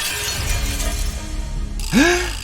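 A toy dump truck made of crunchy snacks breaks apart with a sudden sharp crunching shatter near the end, close and loud, right before a voice exclaims over it.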